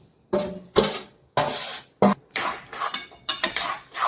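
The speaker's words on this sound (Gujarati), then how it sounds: "હવે આપણે આમાં શેકેલો લોટ અંદર નાખીશું" Roasted gram flour is tipped into sugar syrup in a pan over low heat for mohanthal, making repeated loud scraping and clattering bursts of a spoon against metal, close and rhythmic with short pauses.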